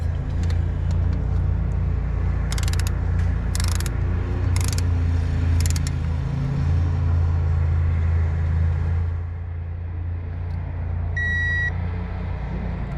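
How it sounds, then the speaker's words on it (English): A torque wrench tightens the cylinder head bolts on a Power Wagon 6.4L engine, with short bursts of ratcheting clicks over a steady low rumble and a brief tonal beep near the end. "Alright, so we're going to go ahead and torque these down. 17 foot-pounds to start with."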